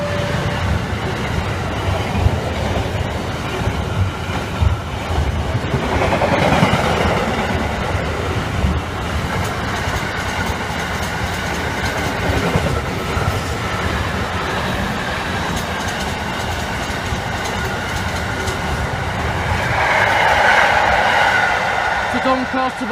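Class 66 freight locomotive 66710 passing the level crossing at Saxilby on a rail line, with a continuous rumble of wagons rolling by, some wheel squeal, and a louder swell near the end; faint voices can be heard under the train noise.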